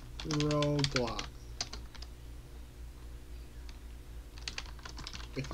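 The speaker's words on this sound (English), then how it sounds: "If I can type" Quick bursts of typing on a computer keyboard, a dense flurry of key clicks followed by scattered taps, close by under faint speech and some musical tones.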